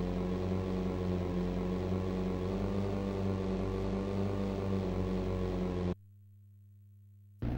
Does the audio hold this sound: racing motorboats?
yes